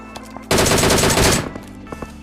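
Automatic gunfire in a mobile shooter game played with gyroscope aiming on a Samsung phone, one loud rapid burst of about a second with a sharp cutoff, standing out above quiet in-game background sounds.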